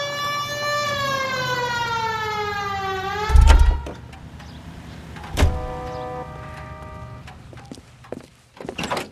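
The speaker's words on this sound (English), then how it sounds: "Hit the siren." Police car siren in the video game L.A. Noire wails with rising and falling tones, then cuts off with a thud, followed by a door slam and brief quieter siren chirps.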